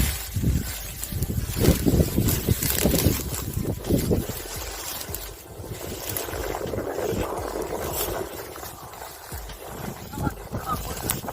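Strong wind sweeping across the Palukachi hilltop, buffeting close with heavy low rumbling gusts that surge and ease, while people talk over it.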